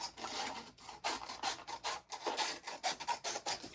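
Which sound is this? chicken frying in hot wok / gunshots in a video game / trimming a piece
trimming a piece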